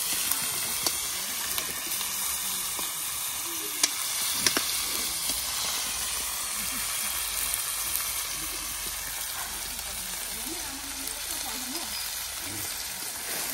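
Meat frying in hot oil in a pan over an open wood fire at an outdoor village cooking spot, a steady dense sizzle and hiss running throughout with a few small pops and clicks, close and fairly loud.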